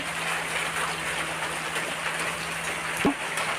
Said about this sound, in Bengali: আমাদের বৃষ্টি পড়তেছে তাই দেখালাম